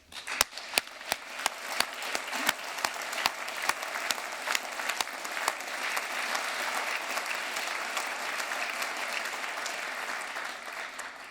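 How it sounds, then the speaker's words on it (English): Graduates at a university winter graduation ceremony applaud, beginning with a few sharp individual claps that build into a broad, sustained wash of clapping across a large hall, heard from a moderate distance. "So give yourselves a roof-raising round of applause."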